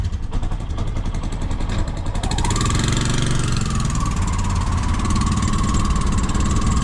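A tuk tuk engine runs steadily and loudly up close, a continuous mid-pitched motor drone with a rapid rough pulse, rising slightly in pitch partway through.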